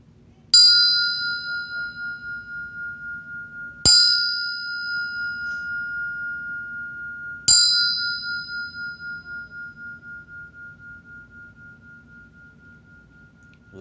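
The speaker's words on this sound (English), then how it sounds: "So with that, we'll sound the bell." A meditation bell is struck three times at even intervals, each clear metallic ring sustaining and slowly fading with a pulsing shimmer, close and resonant in a quiet room.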